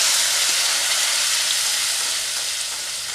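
Onion paste frying in a pan on lowered gas for Bengali egg curry, a loud, dense, continuous sizzle with no breaks throughout.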